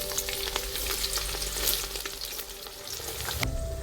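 Chopped onions frying in hot oil inside a pressure cooker, a dense continuous sizzle with light crackling, close and steady, ending with a brief clatter.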